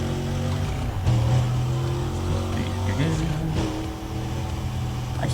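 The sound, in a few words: car engine in Need for Speed Undercover video game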